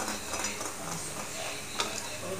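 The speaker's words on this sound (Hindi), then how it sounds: "लकड़ी वाली कड़छी से मैं मसाला वसाला ठीक से भून लेता हूँ" Masala being stirred and fried with a wooden ladle in a pan, soft continuous sizzling under repeated scraping strokes, close and fairly quiet, with no talk.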